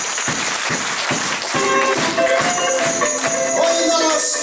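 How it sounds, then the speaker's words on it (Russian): A concert crowd applauds the folk song and music ensemble on stage, a dense, steady wash of clapping mixed with music-like tones that swell and continue throughout. "Аплодисменты!"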